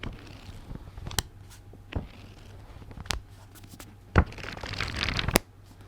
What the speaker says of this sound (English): it's still got that fresh book feel